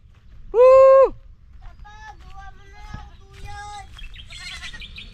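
A goat bleats once, loud and close, with a wavering, nasal cry on a chili farm during harvest, followed by quieter bird chirps and faint background voices.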